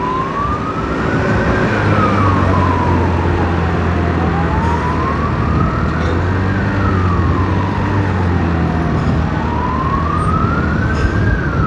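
A loud ambulance siren wails close by, rising and falling in slow sweeps over the rumble of traffic and engine noise.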